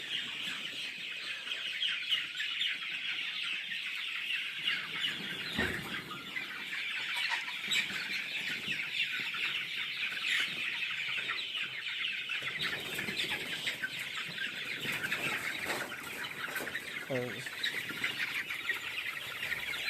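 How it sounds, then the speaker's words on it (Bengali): Chickens clucking faintly as a flock is driven from a brooding shed into a larger poultry farm, a steady busy murmur of fowl throughout with occasional louder calls. "পারফেক্ট মুরগি ট্রান্সফার করার পদ্ধতি হচ্ছে এটা"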